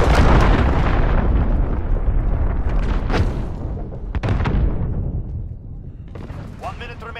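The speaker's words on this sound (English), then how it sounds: "Enemy cruise missile." Enemy cruise missile strike in Call of Duty: Modern Warfare, a loud rumbling explosion with a long decaying roar and secondary bursts, followed by faint radio-style chatter near the end.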